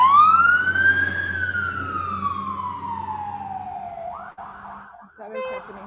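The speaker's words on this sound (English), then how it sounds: "Wow, so much sirens today." Emergency vehicle siren in a small town, a single rising then slowly falling wail passing fairly close, with a brief burst of street noise and faint talk near the end.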